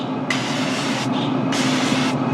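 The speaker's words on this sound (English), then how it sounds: "if I spray it with a little bit of cooking spray" Cooking spray hisses from an aerosol can onto raw chicken wings in two loud, close bursts, each under a second, with a short pause between them.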